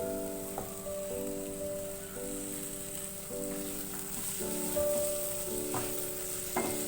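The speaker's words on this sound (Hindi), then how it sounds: "दो मिनट हरी प्याज के साथ इसको पकाएंगे।" Green onions frying in a pan with mashed potato, salt and dry mango powder for aloo bharta, giving a steady low sizzle under a background tone with occasional clicks.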